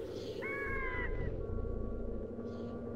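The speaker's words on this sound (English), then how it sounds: "I like how it's the stock crow sound effect" A stock crow caw plays in the video game Glover, with a couple of nasal caws over a steady, droning game background.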